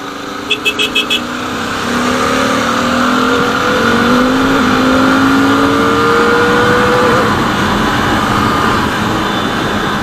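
A modified Royal Enfield Continental GT650 motorcycle accelerates hard after a few short beeps, its engine note climbing steadily and droning loud and close through several rising gears.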